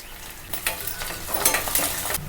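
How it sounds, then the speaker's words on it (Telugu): Green chilies and curry leaves fry in hot oil for a peanut chaat, giving a steady close sizzle with a few brief stirring scrapes and crackles and no voices. "ఇవి మంచిగా ఫ్రై చేసుకోవాలి ఇప్పుడు ఒక రెబ్బ కరివేపాకు వేసుకోవాలి"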